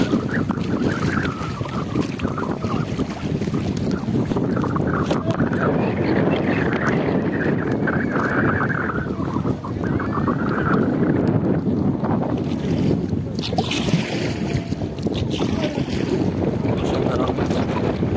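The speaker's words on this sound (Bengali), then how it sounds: "অনেক বাতাস" Strong wind buffets the microphone in a steady roar while kayaking on choppy water in Dhaka, with waves slapping nearby; a voice speaks now and then under the gusts.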